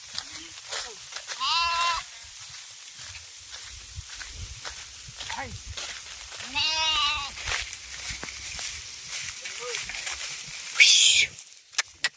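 A flock of sheep bleats in a few scattered, moderately loud calls over steady rustling and footsteps of moving animals, with a sharp burst near the end.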